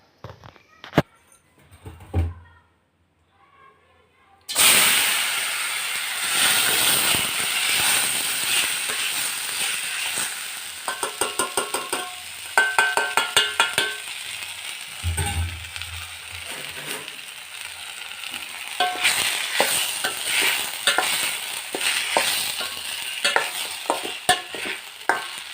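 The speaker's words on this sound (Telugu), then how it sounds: "ఇప్పుడు సగ్గుబియ్యంని వేయించుకోవాలి నేతిలో." Sago pearls fry in hot ghee with a steady sizzle as a spoon scrapes and stirs them through the pan, the stirring coming in bursts after a short quiet start.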